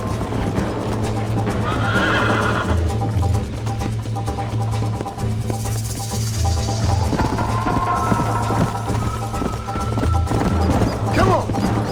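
Horse galloping in the video game Red Dead Redemption: steady clip-clop hoofbeats with neighs and whinnies over a busy game soundtrack, loud and continuous, with occasional voices.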